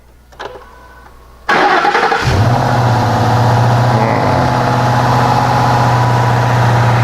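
Ford Mustang with a high-mileage Coyote engine cranks briefly, catches with a loud roar, then settles into a steady rumbling idle close by, with no voices.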